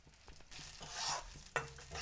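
Mung dal fries in oil in a pan, a close, faint sizzle with stirring scrapes and a sharp clink partway through.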